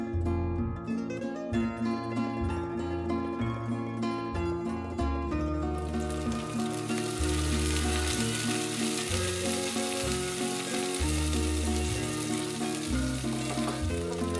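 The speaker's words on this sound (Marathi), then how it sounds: "आणि तापलेल्या या तुपात काजू व बारीक चिरलेला कांदा तळून घ्या" Cashews and finely chopped onion fry in hot ghee in a pan, giving a steady sizzle that grows brighter and louder partway through, under background music and with no speech.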